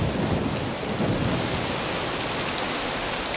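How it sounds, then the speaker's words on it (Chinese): A thunderstorm outside with heavy rain pouring steadily and low rumbles of thunder rolling under it, continuous and fairly loud, with no talking. "外面打雷下雨的"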